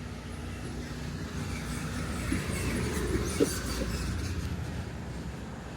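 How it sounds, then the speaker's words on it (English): A steady low rumble of a train rolling along tracks, with faint metallic clicks and squeals, heard from a moderate distance. "On the train tracks at the moment."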